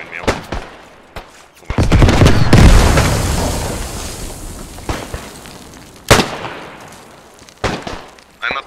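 Cannon artillery fires in the WW1 video game Beyond The Wire, with loud heavy booms and long rumbling decay, mixed with scattered gunfire cracks while voices talk over the battle.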